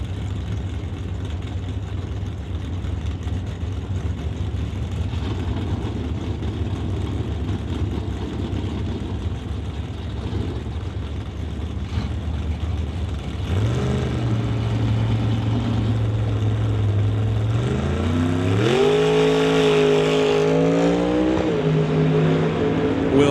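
Drag racing cars at an NHRA Summit ET Series race rumble at idle on the start line, then engines rise sharply into a loud revving roar as they launch, the pitch sweeping upward.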